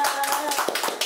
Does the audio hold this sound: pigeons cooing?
no